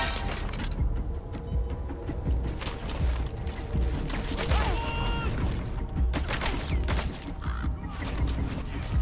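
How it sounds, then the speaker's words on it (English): Suppressive mortar fire rains down on enemy positions in Metal Gear Solid V, a dense, continuous barrage of booming impacts and crackling gunfire mixed with mechanical clatter, loud and chaotic throughout. "Открыть подавляющий минометный огонь по противнику."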